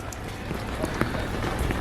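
Steady rain falls outdoors in Izmir, Turkey, a dense, continuous hiss with scattered louder drops.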